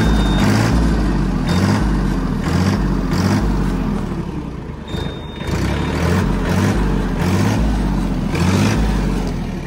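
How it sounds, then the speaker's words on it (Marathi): A Mahindra OJA 2025 tractor engine runs loud and close with a heavy, rhythmic low throb pulsing at an even pace and a brief dip midway. There are no voices. "आणि देन तुम्ही ट्रॅक्टर स्टार्ट करू शकता."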